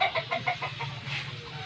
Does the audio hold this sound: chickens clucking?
yes